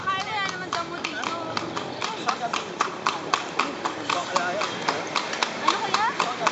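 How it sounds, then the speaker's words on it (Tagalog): Horse hooves clip-clop steadily as the animal pulls a kalesa carriage through the Philippines, the regular clopping running under near constant talk from people riding along. "Camera, this is the horse."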